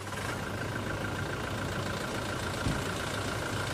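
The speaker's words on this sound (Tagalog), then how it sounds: "pa-start ko na itong makina mga boss." Toyota Fortuner engine running at a steady idle with an even low rumble and a faint whine, near and continuous with no talk over it.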